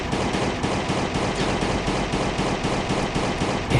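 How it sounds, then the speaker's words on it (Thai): Rapid automatic gunfire in the survival video game Last Day on Earth, a loud, dense, continuous burst of shots running through the whole stretch with no voices. "โอเคเอาปืนยิงเลยครับ"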